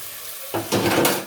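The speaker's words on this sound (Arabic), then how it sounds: "هننزل بالرز، كوبايه الرز اللي احنا غسلينها اهي" Washed rice tipped into a pan of frying pasta for Alexandrian yellow koshari, giving a sudden close burst of hissing and rattling after a quiet start, with no talk.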